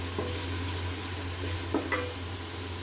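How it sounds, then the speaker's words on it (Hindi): Ginger garlic paste being fried in a pan for chana pulao, a low steady sizzle under a kitchen hum with a few light scrapes of a stirring spoon. "अदरक लहसुन का पेस्ट डाल के इसको हल्का सा भूनेंगे"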